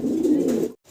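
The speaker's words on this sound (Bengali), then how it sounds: "এটা ভাই একটা মুখী কবুতর, মুখী কবুতর।" A single Mukhi fancy pigeon gives one close, low, throaty coo lasting most of a second, then falls quiet.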